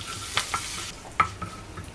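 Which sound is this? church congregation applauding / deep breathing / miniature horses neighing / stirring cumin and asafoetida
stirring cumin and asafoetida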